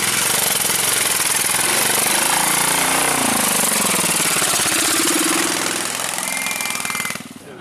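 Royal Enfield Himalayan motorcycle engine chugging close and loud at the Land's End Trial, a rapid thumping beat with pitch sweeps as the revs change, then cutting off abruptly at the end.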